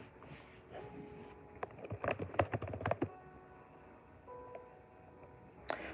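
Rapid bursts of typing on a computer keyboard, clustered clicks in the middle with quieter keystrokes before and after, close and faint against a low background hum.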